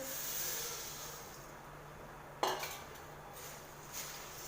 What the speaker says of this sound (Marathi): आता आपण याच्यामध्ये हे मुरमुरी टाकून घेतोय